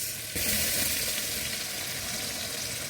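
Onions tipped into a hot pan with prawns for an onion stew, a sudden loud sizzle that bursts in and keeps up a steady crackling hiss throughout.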